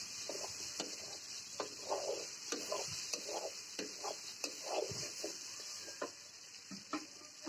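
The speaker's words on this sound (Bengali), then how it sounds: "এবার অনেকটা কষিয়ে নিয়েছি তরকারিটা" Curry being sautéed in a pan, a soft intermittent scraping and stirring with faint sizzle, quiet and close, in irregular strokes with a steady high hiss beneath.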